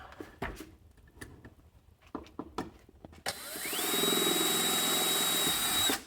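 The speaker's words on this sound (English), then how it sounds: "drill the other two now on the bottom" Scattered knocks and clicks give way to a power drill spinning up and whirring steadily at close range for a couple of seconds, drilling screw holes while installing a subwoofer in a 2023 Toyota GR Corolla.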